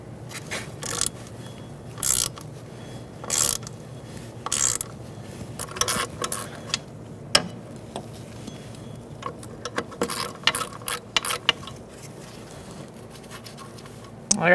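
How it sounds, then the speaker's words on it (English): A ratchet with a 10mm socket works loose the wheel cylinder bolts on a 2012-2017 Hyundai Accent, giving bursts of scratchy clicking and rattling with short pauses between them. "using a 10mm socket, we're going to take out these two bolts, and that's what's holding the wheel cylinder in."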